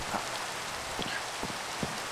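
Steady rain falls in the Minecraft video game as an even hiss with faint scattered drops, quiet and continuous with no voices.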